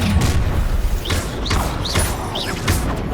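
Repeated fiery Confringo spell blasts in the video game Hogwarts Legacy come as a rapid series of booming impacts with whooshing, rising streaks between them, loud and close throughout.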